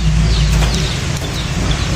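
Brown Nick chickens cluck softly at their new cheap shelter, nearly buried under loud, steady low rumbling and hiss that dominate throughout.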